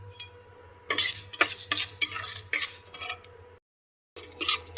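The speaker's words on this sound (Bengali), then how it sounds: "তো আমরা এদিকে কড়াই বসাই দিয়েছি, ডালকে ভেজে নেবো ভালো করে।" Lentils (dal) dry-frying in a kadai, close scraping and stirring strokes in irregular bursts over a faint low sizzle, briefly cut to silence near the end before the stirring resumes.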